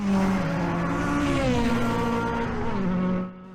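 500cc race cars scream past on Kirkistown circuit, a loud, sustained engine howl with shifting pitch as the pack passes close, then fades quickly at the end.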